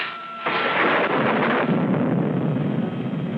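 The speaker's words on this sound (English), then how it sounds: "Just like that thunder, only worse." A deep, heavy rumble of thunder swells after a brief quiet start and rolls on loudly and steadily, with no voices.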